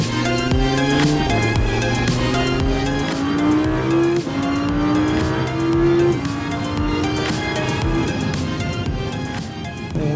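Audi R8 II V10 FSI 5.2 610 Plus engine pulling hard on the road, a loud, continuous roar with rising and falling revs and gear changes through the whole stretch.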